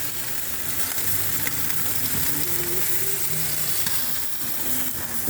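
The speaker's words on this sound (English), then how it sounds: "You see, still a sizzle." Jerk chicken sizzles steadily in a hot pan, a dense close crackle with occasional light scraping, and no one speaking.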